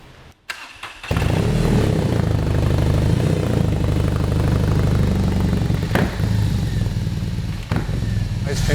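A BMW R 18 boxer engine fitted with a prototype exhaust fires up after a brief pause and settles into a loud, deep, throbbing idle close by, with a couple of small revs. Voices talk faintly beneath it.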